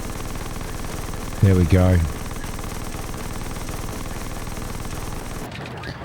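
Interceptor cannons in Xenonauts 2 fire at a UFO as a short rapid burst of two quick volleys over a constant engine drone, with a voice talking briefly before the burst.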